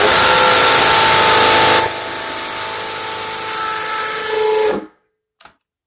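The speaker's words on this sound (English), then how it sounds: "now we're going to drill straight" A power drill bores a hole for a shower handrail, whining loud and steady for a few seconds, its pitch dropping midway before it cuts off abruptly, leaving a brief faint tap.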